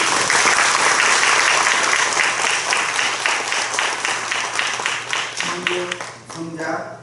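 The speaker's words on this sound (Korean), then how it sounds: "박수로." Loud sustained applause from a church congregation at a Korean Presbyterian ordination service. It fills the room at first, then thins and fades toward the end as a voice begins speaking.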